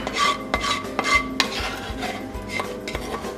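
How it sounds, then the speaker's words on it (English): A spoon scrapes and stirs creamy cauliflower sauce into fettuccine in a pot, producing repeated close scraping and clinking strokes in an irregular rhythm. "Just using our little spoon, dump this gorgeous sauce."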